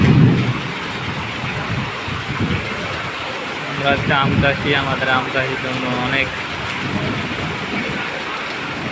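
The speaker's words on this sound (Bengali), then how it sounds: "আধা ঘন্টার বৃষ্টিতে" Heavy rain pours steadily on a farm during a half-hour downpour, a loud continuous hiss under someone talking, with rumbling low bursts near the start.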